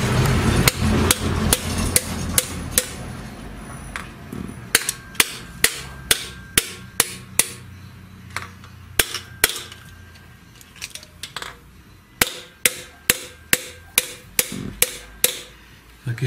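Sharp metallic taps on engine valve spring retainers to free the valve keepers, a close, dry series of single and paired knocks at a steady pace, with brief quiet gaps and faint workshop background.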